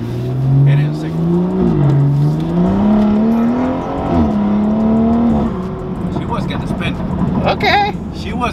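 Tuned BMW F30 340i accelerating hard in second gear, its engine note climbing steadily in pitch as a loud, close drone, then giving way to rougher noise, with people talking and shouting over it throughout.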